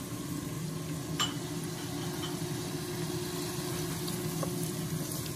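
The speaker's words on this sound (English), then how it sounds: "Add some diced onions." Diced onions sizzle steadily in a hot pan, a constant close crackling hiss with a few faint stirring clicks and no talking.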